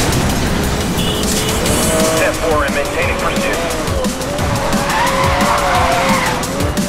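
Car braking hard and skidding in the racing game Need For Speed: Most Wanted (2012), a continuous loud tire squeal over a droning engine, with game sounds layered throughout.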